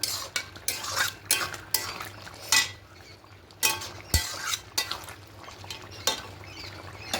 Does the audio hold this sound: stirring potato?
yes